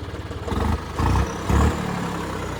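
A tractor engine fitted with a 9-foot rotavator chugs steadily at close range, its low rumble briefly surging a couple of times.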